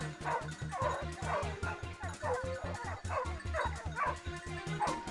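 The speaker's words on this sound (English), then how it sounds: "the urgent barking of the hounds signaled the prey's location" Hunting hounds bark urgently during a wild boar hunt in a forest, a rapid, rhythmic run of close, loud barks and yips that repeats without pause from start to end.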